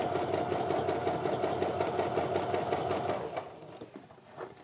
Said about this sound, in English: And then just keep on sewing, making sure that that line that I drew is nice and even with the side of that presser foot.